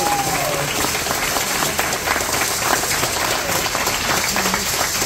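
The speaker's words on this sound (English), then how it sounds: "Just give them a round of applause." Audience applause fills a concert hall after an Afro-Cuban jazz performance: dense, steady clapping from a large crowd, loud and continuous for the whole stretch with no talk over it.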